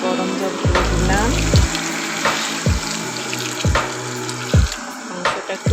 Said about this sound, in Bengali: এখন এখানের মধ্যে গরম জল ঢেলে দিব আমি।